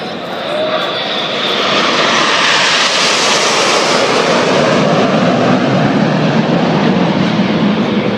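Red Arrows display jets fly overhead in formation with smoke on, shaping a Lancaster bomber during a 2013 air display in Jersey; a loud, sustained broadband jet roar swells in over the first second and holds steady throughout.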